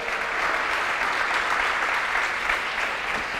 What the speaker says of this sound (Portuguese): Você pode dar um aplauso aí?